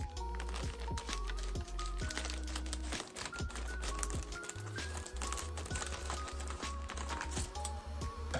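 Continuous crinkling and rustling of plastic packaging, with sharp crackles and small taps, handled up close for several seconds.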